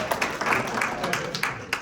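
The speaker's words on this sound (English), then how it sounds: "And you all can hold the applause." Brief, scattered audience clapping at a press conference on a federal infrastructure grant, a handful of sharp claps mixed in with someone speaking.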